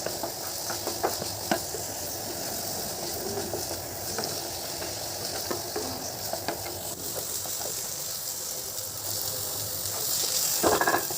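Carrot, onion and capsicum sauté in a pan for aval uppumavu, a steady close sizzle and hiss with occasional stirring clatter, swelling slightly louder near the end.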